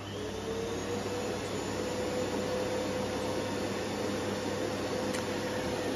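A vacuum cleaner powered by a ROMOSS RS500 portable battery runs at a steady, loud, continuous whoosh with a faint high whine for the whole stretch, no voices.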